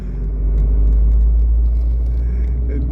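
Abarth 595C Turismo convertible driving in normal mode, its engine giving a steady, deep rumbling drone close by with no speech over it.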